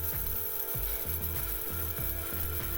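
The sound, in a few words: grinding black pepper with a spice grinder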